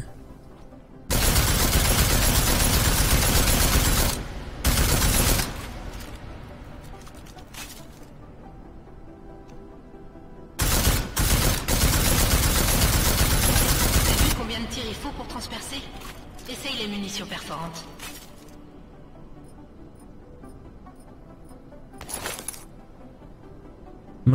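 A combat rifle in the video game Deus Ex Mankind Divided fires in two loud, sustained automatic bursts of several seconds each, separated and followed by quieter stretches where a voice talks.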